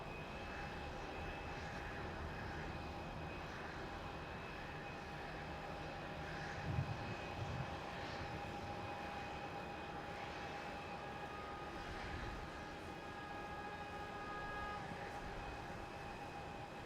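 A Qantas airliner arriving at Melbourne Airport, heard as a steady, distant engine drone with a faint tonal whine, low and even throughout with no talk.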